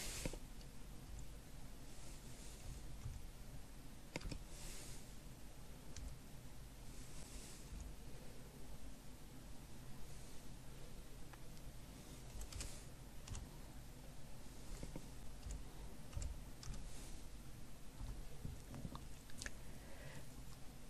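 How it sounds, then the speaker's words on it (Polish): Mouse clicks and keyboard typing while a file is renamed on a computer, quick irregular taps over 20 seconds, faint and close against a steady low background hum, no one speaking. "A więc klikamy raz, potem drugi raz i wprowadzamy nazwę zgodnie z poleceniami."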